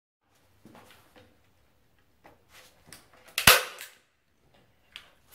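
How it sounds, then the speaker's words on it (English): A staple gun drives staples into the wooden pieces of a noticeboard from the underside, a single loud sharp snap standing out among quieter handling knocks and rustles. "So let me staple it from the other side."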